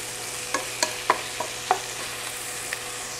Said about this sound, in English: I'm going to cook these until the onions are nice and soft and the peppers are soft.